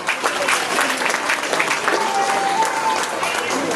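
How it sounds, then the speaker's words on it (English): Zoo audience clapping steadily after an elephant show in Singapore, a broad, even patter of many hands with crowd murmur mixed in throughout. "they were clapping, but they don't sound impressed"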